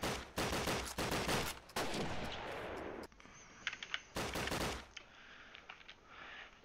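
Rapid automatic bursts from a PPSh submachine gun in a first-person shooter match, loud chattering volleys separated by short gaps, followed by quieter scattered shots and game effects.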